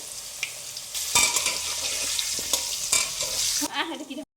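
Potatoes with a little salt and turmeric fry in hot oil in a kadai, a loud sizzling hiss broken by sharp stirring scrapes and clatters, close up, ending abruptly in silence.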